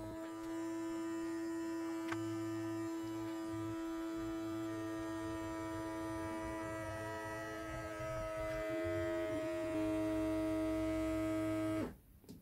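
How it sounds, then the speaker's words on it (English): A standard vacuum pump drawing down a filament storage bag for a 3D printer drones steadily with a strong tonal hum, its pitch shifting slightly near the end before it cuts off abruptly. "We do the same test again with the standard pump."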